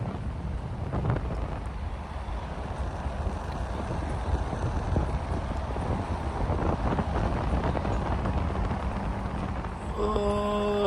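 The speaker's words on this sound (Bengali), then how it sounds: "বাতাস, কঠিন বাতাস।" Strong, cold wind roars across a Colorado mountain, a steady low rumble buffeting the microphone throughout, briefly swelling near the end.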